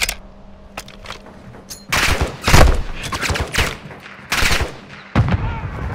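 Heavy automatic gunfire in a Call of Duty MW2 battle: several loud bursts of rapid shots between quieter gaps, with sharp impacts starting about two seconds in and repeating through the end.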